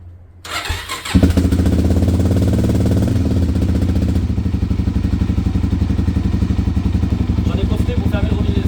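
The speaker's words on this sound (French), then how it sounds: "je vais quand même démarrer un peu la moto pour faire chauffer un peu le moteur" A Suzuki DRZ dirt bike engine cranks and fires after about a second, then settles into a loud, steady, rapid idle as it warms up, close to the listener.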